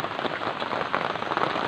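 Steady rain falling in the mountains, a dense close patter of drops hitting surfaces at even loudness throughout, with no voices.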